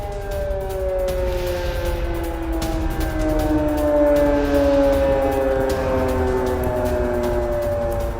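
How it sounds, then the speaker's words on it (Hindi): Air raid sirens wailing across a Ukrainian area during an alert over feared Russian drone and cruise missile attacks, a loud sustained rising and falling tone that continues without a break. "इलाके में ये सायरन बज रहे हैं और लोगों से शेल्टर्स में रहने की अपील की जा रही है"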